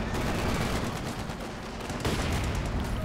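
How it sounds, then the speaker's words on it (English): Company of Heroes 2 battle sounds as a Panzerfaust fires on Sherman tanks: dense, continuous bursts of gunfire and explosions, loud and busy throughout. "Another Panzerfaust sets the Shermans out of commission and straight into ditch."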